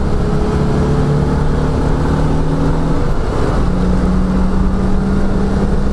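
A Citroen 2CV's small engine drones loudly and steadily as the car accelerates through the gears, with a brief dip where a gear changes before the tone settles again under constant road and wind noise.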